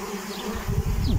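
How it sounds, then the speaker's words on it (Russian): Honeybees buzz after a swarm from a trap, a dense close drone of many insects with individual bees flying past, no voices. "Пчелка еще не успокоилась."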